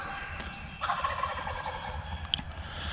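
A distant wild turkey gobble rattles out once over steady outdoor background noise in a creek bottom in spring, faint and far off.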